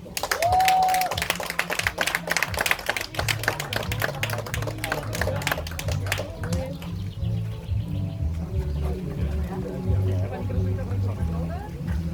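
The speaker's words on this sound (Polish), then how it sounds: "naprawdę wielkie brawa Wam się należą" Audience applause at an outdoor award ceremony for a race, loud scattered clapping at first that thins out, with birds chirping and people talking over it.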